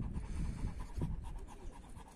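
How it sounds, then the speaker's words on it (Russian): An Alabai dog pants nearby with quick, faint, breathy huffs in a steady rhythm, heard close and soft with a slight rustle. "Собака."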